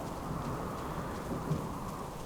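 Steady rain pours in the survival game Subsistence on a wet, windy day, with a dense even hiss and faint low rumbles of thunder underneath and no voices.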